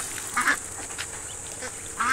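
Ducks kept on a backyard farm quack a few times in short bursts, a pair of quacks early and another near the end, mid-distance over quiet outdoor ambience.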